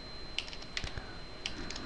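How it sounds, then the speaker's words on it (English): Fingers type a Linux command on a computer keyboard, a few crisp close key clicks spaced irregularly over two seconds against a quiet room hiss. "As root, type yum"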